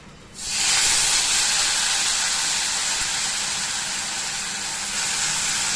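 Hot oil hitting tavala adai batter in a pan sets off a sudden loud sizzle that holds steady and close for several seconds after a brief quiet start.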